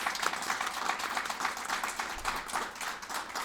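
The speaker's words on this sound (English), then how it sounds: "Let's give them another well-deserved round of applause" An audience at a recognition ceremony applauds a choir, a steady dense wash of many hands clapping that fills the space without break, with no speech over it.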